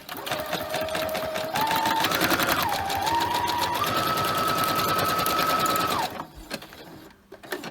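A sewing machine zigzag-stitches through paper in a steady, fast mechanical whir whose pitch climbs in steps as the speed rises, then stops abruptly about six seconds in, leaving faint handling noise.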